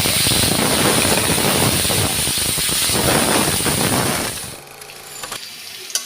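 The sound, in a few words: cut potatoes frying in hot oil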